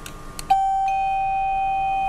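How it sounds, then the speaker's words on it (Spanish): A doorbell triggered by a remote control sounds after a faint click, then holds a single sustained electronic chime tone steadily to the end, clear and close. "Vamos a verificar que el timbre funciona."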